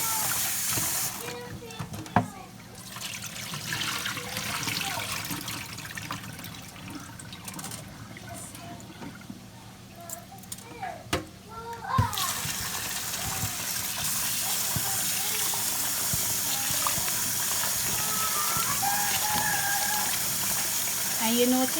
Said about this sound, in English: You're washing out all the starch from inside the rice.